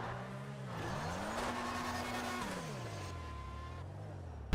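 A video game car engine accelerates and shifts. The loud, continuous synthetic engine tone rises in pitch, drops, and climbs again, with a faint voice underneath.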